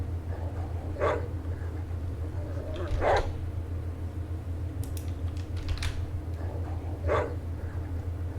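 A dog in the Atom RPG video game barks in single sharp yelps spaced about two seconds apart over a low droning background hum, mid-distance and moderately loud.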